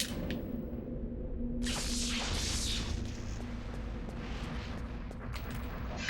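A booming explosion from the Eternal Darkness video game erupts with a rushing whoosh midway through and decays into a rumbling tail, heard alone over a low steady game drone.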